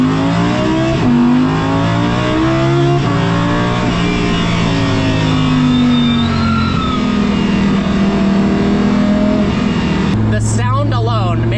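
Engine of an Audi R8 race car driven on public streets, heard from inside the cabin, pulling hard with a steady, loud, rising drone that holds for several seconds before a sharp shift in pitch near the end.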